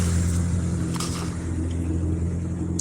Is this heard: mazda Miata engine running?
yes